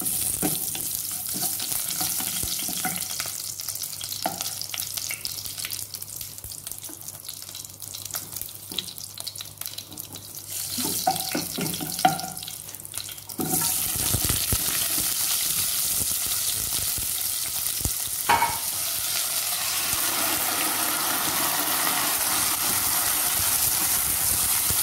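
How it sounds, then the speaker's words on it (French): Spices frying in preheated hot oil as the base for an Indian tomato sauce, a continuous close sizzle with scattered stirring clatter, turning to a brighter, louder hiss partway through and staying steady to the end. "Nous allons mettre dans l'huile chaude, déjà préchauffée, les épices d'abord."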